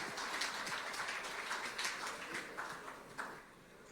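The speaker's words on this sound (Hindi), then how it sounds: "A huge round of applause, please." Audience applause at an on-stage event welcoming a speaker, a quiet, distant patter of many hands clapping that holds steady and then tapers off near the end.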